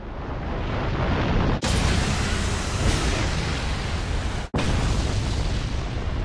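A massive city-wide explosion in the Seven Deadly Sins anime, season 2, roars as a loud, continuous rumble for several seconds, broken only by two very brief cuts.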